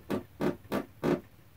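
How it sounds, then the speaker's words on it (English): A squeaky wooden floor creaks four times in an even rhythm, each creak short and broad, close by in a quiet sewing room with no talking. "you might hear my squeaky floor"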